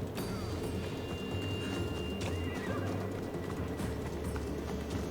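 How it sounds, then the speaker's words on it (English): A horse in the video game Assassin's Creed Odyssey whinnies amid clip-clopping hooves and light ambient bird calls, the neighs rising above a continuous bed of game sound. "Is this horse laughing or neighing?"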